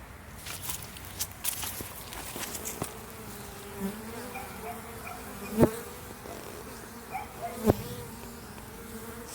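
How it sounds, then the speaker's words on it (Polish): Continuous buzzing of many honeybees close by at a hive, a low steady drone with a few sharp knocks and rustles on top, no talking. "Na koniec pszczoły, do których mam najbliżej."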